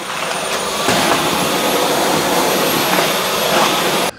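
A Dyson V12 Detect Slim cordless vacuum cleaner runs on a hardwood floor with a loud, steady, high-pitched whine and airy rush that cuts off abruptly at the end.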